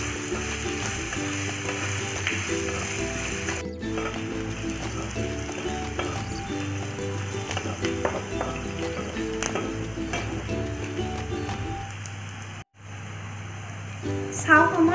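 Onions frying in a pan for pulao, a steady sizzle with clinks of a stirring spoon, under a woman's speech and faint background music.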